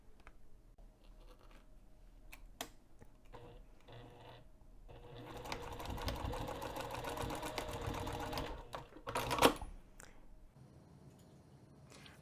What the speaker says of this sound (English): I'm going to take this over to the sewing machine, and from the folded edge, I'm going to stitch 1/8 of an inch seam allowance